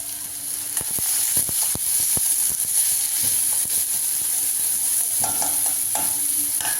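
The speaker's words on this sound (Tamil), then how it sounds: "வெங்காயம் வதக்குள்ளே நம்ம கொஞ்சம் சால்ட்டு போட்டுக்கலாம்." Onions sautéing with salt in a pan, a steady loud sizzle throughout with sharp scraping stirs and clinks of a utensil against the pan, no talking.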